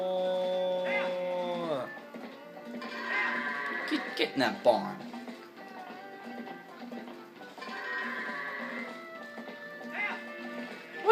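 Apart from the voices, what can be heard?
goat bleating in Zelda Twilight Princess video game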